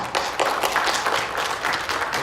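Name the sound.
applause welcoming guests at church service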